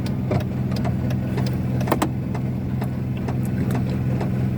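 A series of short, crisp lock clicks and chirps from a 2012-2017 Kia Cerato/Forte's unlock signal, spaced unevenly over a steady idling engine drone, nearby and with no voices.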